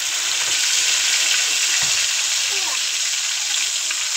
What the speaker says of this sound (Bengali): তো চলো দেখি আমিও মাংস ভাজতে থাক